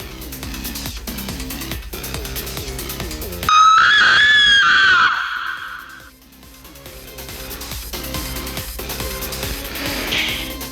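A girl in an animated story lets out a loud, drawn-out scream of pain as she is slammed to the ground hard enough to crack it, rising sharply over a clattering background before fading.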